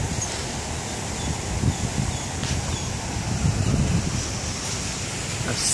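Floodwater surges and splashes in a steady wash as a vehicle drives through a flooded street after a thunderstorm in Broward, Florida, with constant wind-like rushing throughout and no speech.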